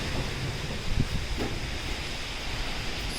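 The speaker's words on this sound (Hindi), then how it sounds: "कितनी तेज़ हवा चल रही है" Strong wind from Super Cyclone Amphan over the Bay of Bengal roars in a steady, unbroken rush, with a few brief gusts rising near the middle.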